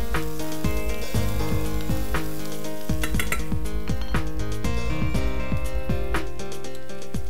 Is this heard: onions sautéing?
yes